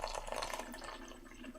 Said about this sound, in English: I'm going to pour directly through the filter